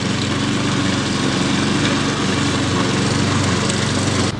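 Lawn mower cutting grass outdoors, a loud, steady engine drone with a pulsing low rumble that runs without a break.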